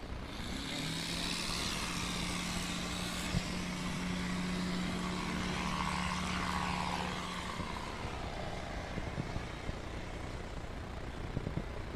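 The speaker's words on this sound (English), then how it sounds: "That's an impressive takeoff there." Super STOL light airplane taking off at a STOL competition, its propeller engine droning steadily and fairly loud across the whole stretch with broad outdoor wind-like noise and no talk.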